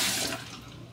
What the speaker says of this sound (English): you always rinse it off because you don't know what bacteria was on it before